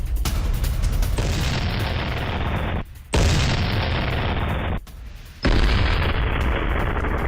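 Explosions from an attack on an IDF Merkava tank in Rafah: loud, heavy booming blasts with long roaring, rumbling tails, three separate bursts each cut off abruptly, no speech.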